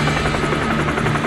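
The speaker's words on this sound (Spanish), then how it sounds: "¡Ay, no! ¡El helicóptero!" A cartoon helicopter drones steadily with a dense, buzzing rotor throb throughout, loud and close, filling the whole short moment without any voices.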